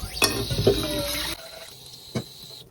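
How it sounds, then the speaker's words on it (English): Tap water running briefly into the bottom pot of a double boiler on a kitchen stove, a loud steady gush that cuts off abruptly, followed by a faint clunk of the pot. "We're going to fill the bottom pot with a little bit of water."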